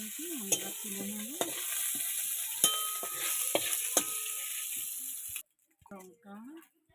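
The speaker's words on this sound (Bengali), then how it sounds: "চিংড়ি মাছ ভেজে নিয়েছি, আমি এবার তুলে নেব।" Prawns fry in a pan with a steady, close sizzle, while a voice speaks over it in bursts; the sizzle stops abruptly near the end, leaving brief speech in near silence.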